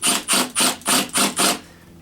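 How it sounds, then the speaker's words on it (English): A screw being driven slowly into a plastic climbing hold on a home climbing wall, heard as six even, rasping bursts in steady rhythm, close and fairly loud, ending in a quiet tail. "I'm just trying to get it so that the screw isn't fighting drilling into"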